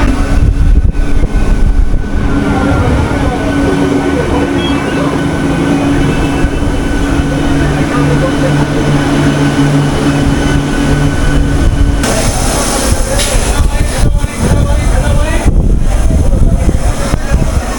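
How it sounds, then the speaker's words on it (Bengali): Local train on the Howrah–Digha line running past Phuleshwar station, a loud continuous rumble and rattle of carriages with a steady low hum, shifting tone partway through. "এই যে ট্রেন এখন ক্রস করছে ফুলেশ্বর স্টেশন।"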